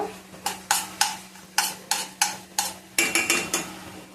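A spoon scrapes and clinks against a pan while onion egg curry is stirred, about a dozen sharp metallic strokes in a steady rhythm, close and clear, with a faint background hum.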